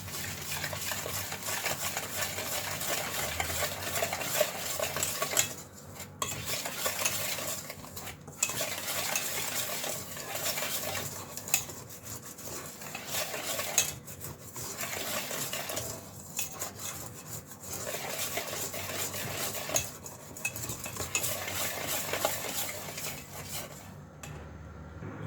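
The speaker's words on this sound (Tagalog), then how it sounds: "Half cup of sugar. Mix muna natin siya." A half cup of sugar is mixed into batter for bibingkang malagkit, a sticky rice cake with coconut and cheese. A utensil scrapes and clinks against a bowl in steady repeated strokes with brief pauses, with no talking.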